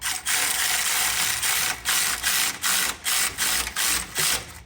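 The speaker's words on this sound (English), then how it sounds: "I'm gonna get these torqued down" A ratchet repeatedly clicks while tightening exhaust Y-pipe nuts on a 2008 Infiniti FX35, steady loud close ratcheting in about nine quick strokes separated by brief pauses, with no talking.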